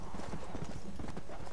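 Horse hooves clip-clop in the video game Undead Nightmare, a quick steady rhythm of galloping footfalls heard continuously over a dense game soundscape.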